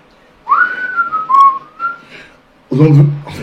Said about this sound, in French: on ne siffle pas la nuit, comme ça.